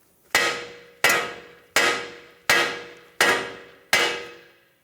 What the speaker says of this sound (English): use a hammer right here